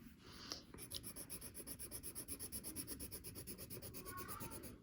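A watercolor pencil shades back and forth on paper, each stroke pressed a little harder, making a quiet, rapid, rhythmic scratching that runs steadily throughout.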